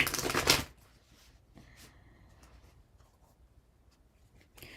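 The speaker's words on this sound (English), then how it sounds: "Grayson, pulling your card right now." Cards being pulled and shuffled from a tarot-style deck, a brief loud riffling burst at the start followed by faint sliding and handling sounds, then another soft shuffle at the end.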